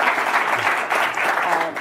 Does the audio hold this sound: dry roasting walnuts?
no